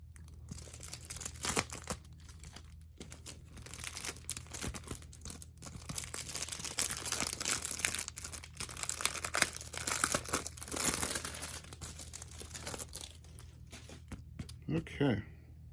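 Packing tape is torn and peeled off an unboxed package in repeated rips with crinkling, close up, while a person talks intermittently.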